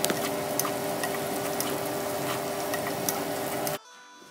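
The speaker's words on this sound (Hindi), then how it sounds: "और अभी मैं इसको अच्छे से फ्राई करूंगी।" Egg, prawn, bell pepper and capsicum fry in a pan with a busy, close sizzle and crackle, dense and steady before cutting off abruptly near the end.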